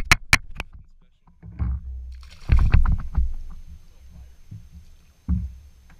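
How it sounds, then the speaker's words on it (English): Kayak paddle strokes splash and knock against the hull during a spring fishing trip, a few uneven close sloshes and thumps on open water, with a voice heard briefly. "Paddle over here. Paddle over here."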